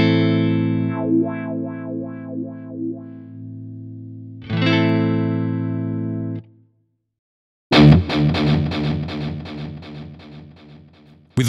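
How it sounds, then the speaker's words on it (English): Electric guitar played through a Kemper Profiler with a wah effect on an expression pedal: sustained distorted chords swept by the wah, a second chord, a short pause, then a fast strummed rhythmic passage, loud and alone. "Here, the wah effect is switched off when the pedal is in the toe position."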